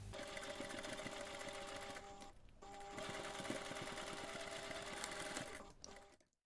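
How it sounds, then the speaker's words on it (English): A sewing machine runs steadily through the short gusset seams of a laptop bag, one long continuous stitching burst with a momentary slowdown midway before stopping. "you can take this to the machine and sew those two short seams"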